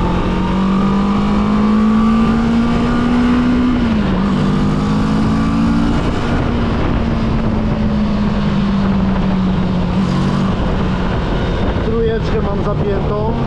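A new motorcycle engine pulls hard in first gear, a loud continuous drone whose pitch climbs steadily, dips briefly near the middle and then climbs again under heavy wind rush, as if heard from the rider's seat.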